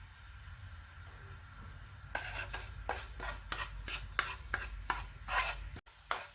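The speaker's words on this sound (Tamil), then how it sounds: "நம்ம எடுத்து வச்சுருக்கிற சுகர் சிரப்பை கொஞ்சம் கொஞ்சமாக இதில் ஊற்றி கோட் பண்ணிக்கலாம்" Roasted cardamom and fennel seeds coated with sugar syrup stirred in a hot pan, a series of rhythmic scraping strokes with a light sizzle underneath, close and fairly quiet.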